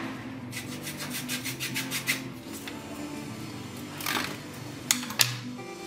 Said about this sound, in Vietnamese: Mình sử dụng cưa để cắt cho nhanh